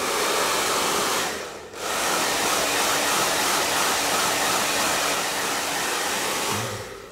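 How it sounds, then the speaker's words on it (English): A blow dryer on low heat, used to dry hair glue on a skin hair system, blows a loud, steady rush of air that dips briefly once before carrying on. "so we can use the blow dryer, not very hot air"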